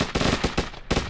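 Explosions in the video game Hurtworld, a rapid crackling series of about six sharp, loud bursts in just over a second, like a string of firecrackers.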